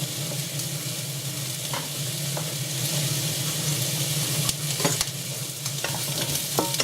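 Chopped onions and celery frying together in a pan with chili-infused rapeseed oil give a steady broadband sizzle throughout, broken by a few sharp clicks and scrapes of stirring, close and with no talking.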